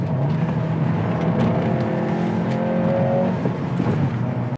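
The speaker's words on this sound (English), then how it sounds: "It's actually pretty loud for an inline-4." An Acura Integra A-Spec's inline-four engine revving loudly and close, a sustained buzzy drone with rising and falling pitch through the whole stretch.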